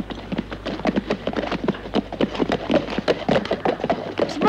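Horse hooves clip-clop in a quick, steady run of sharp knocks on hard ground, fairly close, in a Spaghetti Western scene with no speech over them.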